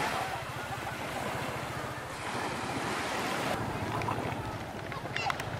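Ocean waves rolling in at Long Beach in Penang, Malaysia, a steady wash of surf mixed with wind noise, with some faint background activity and no clear talk.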